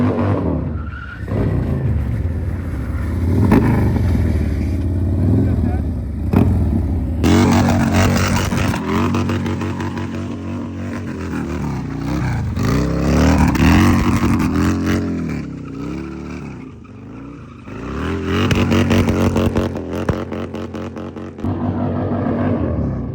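A 2024 Harley-Davidson Road Glide with power upgrades on a test ride, its engine loudly revving up and down in rising and falling sweeps over rushing wind, with no speech.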